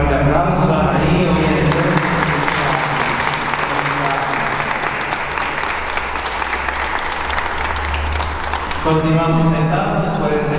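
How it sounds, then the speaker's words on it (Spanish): Loud, sustained audience applause filling a hall at a community anniversary gathering in Tula, Tamaulipas, a dense steady clatter of many hands lasting several seconds, with a voice speaking over it at the start and end. "vamos a darle un fuerte aplauso a Darío"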